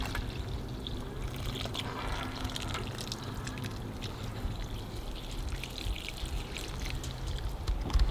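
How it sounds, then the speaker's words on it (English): Water poured steadily over newly planted garden herbs, a continuous close splashing and trickling stream that runs without pause. "So now I'm just going to water it and call it good."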